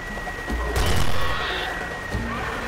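Submachine gun fire in the video game Dino Strike, a brief loud burst of rapid shots with a sharp crack midway, fading into a steady background hum with faint thumps.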